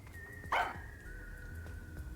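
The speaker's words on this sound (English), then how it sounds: "That's a loud-ass dog." A dog lets out a single sharp bark that rings out clearly above a quiet indoor room, with only a faint background hum before and after it.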